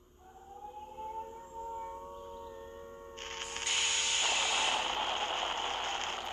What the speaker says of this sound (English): that's really interesting that an air raid siren has to go off when a rocket is about to launch